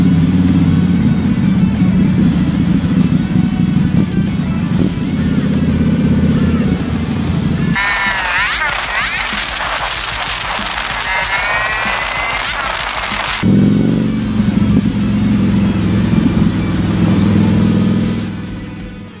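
Indian Sport Chief and Scout 101 motorcycles out on a test ride, their engines droning loud and steady at close range. Wind rush briefly dominates in the middle before the engine note returns, with no voices.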